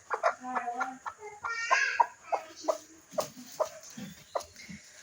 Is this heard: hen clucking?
yes